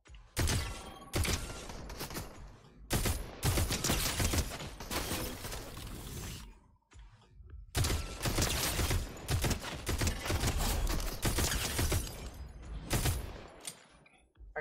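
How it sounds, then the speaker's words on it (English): Dense video game gunfire in rapid bursts, loud and close, with overlapping rattling shots that drop out briefly near the middle before resuming just as heavily. "Oh, everybody shooting."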